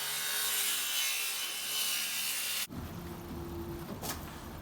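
A wooden roof deck lining board being ripped in half with a saw, heard as a steady, close rasping of the blade through the timber, which cuts off abruptly midway and gives way to quieter rubbing and handling noise.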